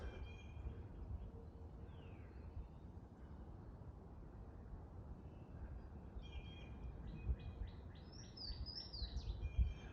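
A male Louisiana waterthrush sings its territorial advertising song, a series of high, clear slurred notes heard fairly faint and somewhat distant over steady broadband background noise, with the phrases clustering toward the end.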